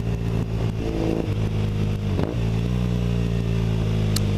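Close and loud, a Triumph Thruxton 900 cafe racer with a British Customs slip-on exhaust accelerates with a steady throaty engine note, pitch shifting briefly midway before holding on again.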